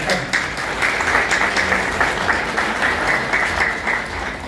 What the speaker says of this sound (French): Bon, on applaudit la tante.